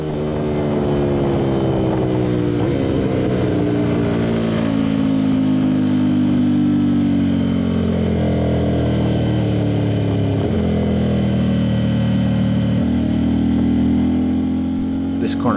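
An Aprilia RS660 with a CRT exhaust howls around a racetrack, loud and close. Its engine note climbs steadily through each gear, drops sharply at several shifts and rises again. A loud, droning roar runs throughout.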